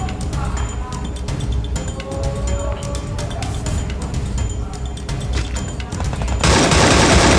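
Gunfire in the mobile battle-royale game Free Fire comes as loud, dense rapid bursts of shots in near-constant automatic fire, ending in a sudden, louder blast of noise.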